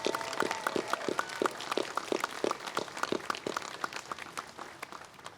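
Steady applause fills a university commencement ceremony, a crowd clapping at moderate distance with sharp, overlapping claps that continue for several seconds and slowly thin out.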